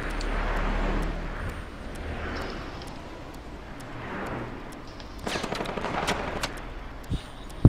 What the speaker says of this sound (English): For some reason, I just started shooting at Peter.